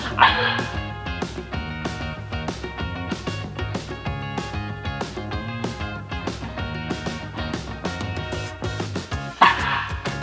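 A dog barks again and again in short, evenly spaced bursts, eager for a sock to be thrown, indoors at home over a steady tonal background.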